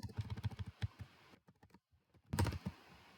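Fingers type quickly on a computer keyboard at close range in bursts of rapid clicks, broken by a short pause before a final dense flurry of keystrokes.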